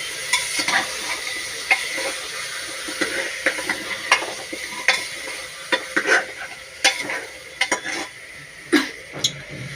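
Meat with masala spices stirred in a pan, a low sizzle under repeated scraping and clinking of a spoon against metal, irregular strokes growing more frequent toward the end.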